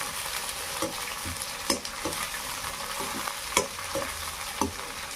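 Onion and curry leaves frying in hot oil give a dense, loud crackling sizzle, with several sharp scraping knocks of a stirring spoon spaced irregularly on top.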